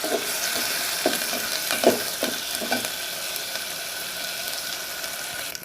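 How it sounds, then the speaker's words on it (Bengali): Ginger garlic paste fries in a pan for a bean, tomato, potato and fish curry: a constant loud sizzle with occasional scraping stirs, no talking. "আদা রসুনটা দিয়ে ভালো করে একটু ভেজে নিব"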